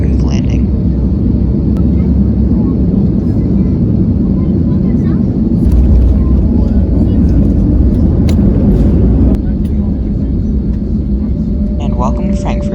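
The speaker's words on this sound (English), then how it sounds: "we were treated to a beautifully smooth landing." Swiss airliner landing at Frankfurt heard from inside the cabin as a continuous loud engine and airflow roar with a low rumble, a few faint clicks and knocks near the end.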